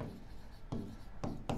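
Chalk or marker scratching across a board during a lesson on on-load tap changing transformers, heard as a few short, soft strokes spaced irregularly against a quiet room.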